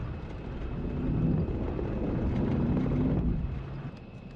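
An F-14 jet taking off from a carrier in the DCS flight simulator, a broad steady engine roar that swells and holds, then eases slightly, with no voices.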